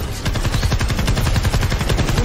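Rapid automatic gunfire in a video game, a dense, steady stream of loud shots rattling continuously for the whole stretch with no talk over it.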